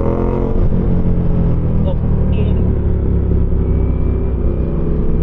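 Ducati motorcycle engine revving at night on a city street, a loud, steady, rumbling drone close by, with people talking over it.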